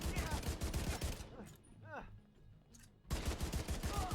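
An auto rifle fires full-auto bursts in The Division 2, with rapid loud shot trains at the start and end and a short pause between them filled with faint game effects.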